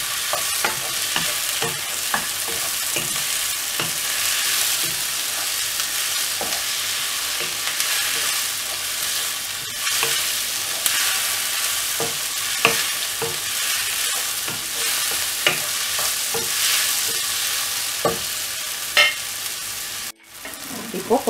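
Tomatoes sauté in a pan for a chickpea curry, a steady close sizzle running throughout with repeated scraping clicks from a stirring spoon and a brief dip near the end.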